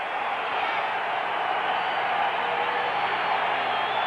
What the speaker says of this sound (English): Denver crowd, they're into it very early